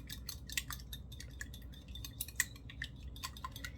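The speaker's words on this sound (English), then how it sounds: "I'm going to whisk that together." Eggs being whisked for an omelet: a rapid run of light metallic clinks and taps against a bowl, irregular and fairly close, with no talking.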